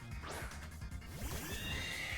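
Ice Horse Pokémon in Pokémon Scarlet/Violet lets out a single neigh, a wavering whinny that rises and falls over about two seconds, close and clear with no talk over it.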